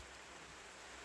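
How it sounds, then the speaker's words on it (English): Rain drums steadily on a metal roof among cedar trees on a Georgia barrier island, a soft, even hiss with no breaks or voices, faint and continuous throughout. "Now we're getting more rain, but I love this metal roof."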